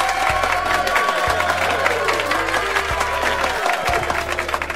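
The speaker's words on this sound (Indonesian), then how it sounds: "Tepuk tangan sekali lagi." Audience applause at a corporate pre-launch event for an employee information system, a dense steady wash of clapping with crowd noise, loud and continuous, a low hum underneath throughout.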